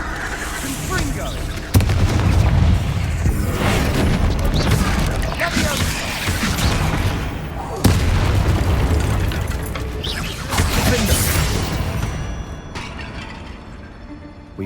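Confringo spell explosions in a video game land as repeated heavy booms with rumbling blasts, loud and dense throughout, fading toward the end.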